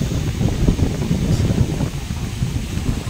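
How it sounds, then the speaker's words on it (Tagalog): Steady wind buffets the microphone with a low, rumbling roar, gusting unevenly throughout, at a beach lot in Lubayat, Quezon. "Kanina ho maganda panahon, tapos ngayon mahangin"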